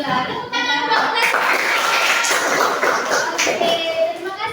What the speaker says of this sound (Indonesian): Tepuk tangan buat les